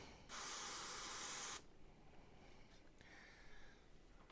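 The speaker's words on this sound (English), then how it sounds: "So I'm just going to start just by spraying that off," A single hiss of isopropyl alcohol sprayed onto a washing machine controller board lasts just over a second, close and crisp, followed by quiet handling noise.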